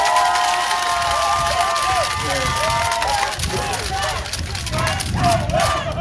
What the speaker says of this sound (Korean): 우리 강철남 도의원께 큰 박수 부탁드립니다